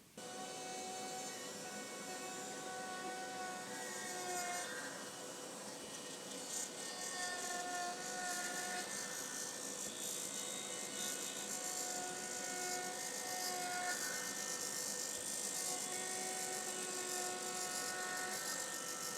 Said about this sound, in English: Let's try a small round over bit.